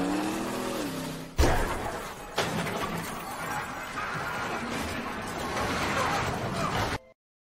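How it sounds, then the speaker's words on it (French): Motorcycle stunt sequence from a slapstick-style action film: a loud engine roar with sudden crashing impacts near the start and again a second later, then sustained engine and clattering noise that cuts off abruptly. "mais qui est en même temps le son du film en cours, la cascade de moto"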